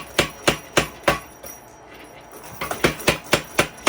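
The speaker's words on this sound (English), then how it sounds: "Now each time the hammer hits and pushes it lengthwise, it also thickens the material." Hand hammer blows on high carbon steel being forged into an herb chopper blade, sharp ringing strikes in a steady rhythm, a pause midway, then a quicker run of blows, close and loud with no talking.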